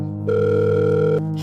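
A telephone line gives a short, steady electronic tone, loud and close, lasting about a second before cutting off, with nobody speaking.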